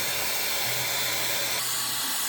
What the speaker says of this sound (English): Keep the hair dryer moving while I'm leaning forward, getting a little close to my roots here.